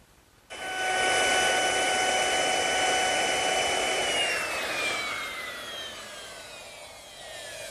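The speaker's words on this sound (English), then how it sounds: "on the outside face of the end panels, I'm running a decorative chamfer right along the edge of all 4 pieces" A router cutting a decorative chamfer along the edges of wooden table end panels, a loud, close, sustained high whine that starts abruptly, then its pitch sags and the sound eases as the cut continues.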